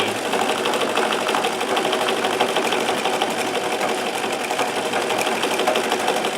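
A Singer 237 sewing machine runs fast and steady for free motion embroidery, its dense continuous whir joined by the rattle of the table and loose items on it, loud and unbroken throughout.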